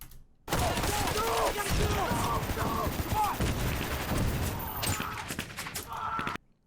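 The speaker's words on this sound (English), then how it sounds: "This was really her reaction while filming this shot to all this pyro going off." Pyrotechnic charges pop and bang in a rapid, crackling barrage on an action movie set, loud and close, continuing for several seconds before stopping abruptly.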